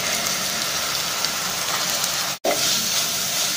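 Sliced onions sizzle in coconut oil with ginger and garlic in a pan for pepper chicken fry. A steady, close frying hiss runs throughout, broken by one abrupt momentary cut.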